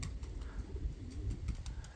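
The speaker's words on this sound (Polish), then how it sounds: "gołębi tutaj obcych przylatuje trochę" Pigeons coo softly at a Polish pigeon loft, a faint low murmuring with occasional wing flutters, fairly distant and quiet against a steady background.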